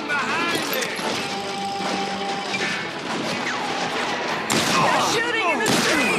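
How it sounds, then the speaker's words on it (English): Gunfire in a town street in the Western video game Call of Juarez Gunslinger: dense, continuous clattering shots and crashing impacts, with two louder bursts near the end, all over steady battle noise. "They're shooting in the street."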